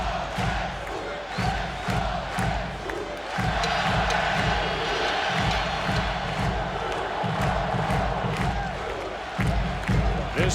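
A sellout baseball crowd roars at Shea Stadium during the 2000 NLCS Game 5 between the Mets and Cardinals, with dense, sustained cheering and rhythmic chanting and stomping throughout, loud and enveloping.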